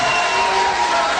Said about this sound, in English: I did allow you a little applause for each one of the candidates.